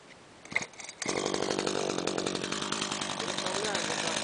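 Hedge trimmer shearing shaped shrubs, a few clicks and handling noises, then the motor starts and runs as a loud, continuous buzzing drone close by for the rest of the clip.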